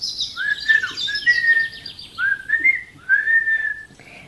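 A wolf character in a read-aloud children's story whistling a jaunty tune while strolling off, voiced by a person imitating the whistle: several bright sliding phrases, close and clear.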